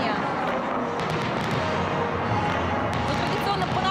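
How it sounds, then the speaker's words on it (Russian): Festive fireworks over Moscow for the city's birthday celebration, heard as scattered crackling pops and faint bursts over a dense, continuous wash of crowd and outdoor noise. "начался фейерверк"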